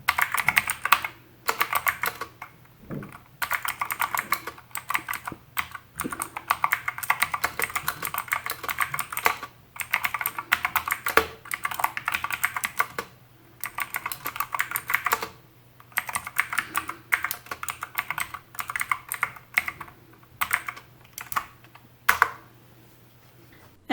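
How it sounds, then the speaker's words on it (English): Typing on a mechanical keyboard fitted with a tape mod but no foam mod, a close, rapid stream of crisp key clicks in bursts with short pauses between, alone over a faint low hum. "Up first is the keyboard after the tape mod, but before the foam mod."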